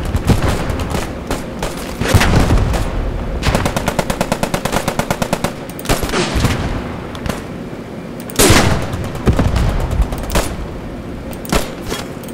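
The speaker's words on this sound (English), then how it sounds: "Dude, that's like an MG in that building or some shit." A machine gun fires from a building in Post Scriptum, its rapid, evenly spaced rounds rattling in long bursts, mixed with louder nearby gunshots and booms across a busy battlefield.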